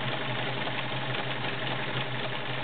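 A heavy-duty 1.2-amp Kenmore 1750 sewing machine runs with a close, constant motor whir and a fast, regular pulsing beat throughout, with no voices.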